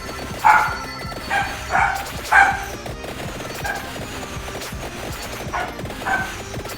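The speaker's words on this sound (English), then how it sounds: "I think my dog is very excited that my wife is home" An excited pet dog barks indoors as its owner's wife arrives home. Several loud, sharp barks come in uneven clusters, with quieter yips between them over faint background game sounds.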